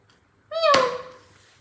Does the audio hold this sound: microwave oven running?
no